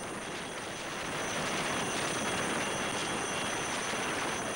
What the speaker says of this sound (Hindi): घर की छत पर इस हेलीकॉप्टर को उतारा गया और पीड़ित युवक को अस्पताल ले जाया गया।